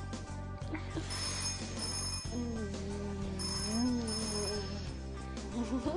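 A telephone rings in a Polish crime-reconstruction scene, its repeated tones sounding at moderate volume beneath a soft musical background, with no talking.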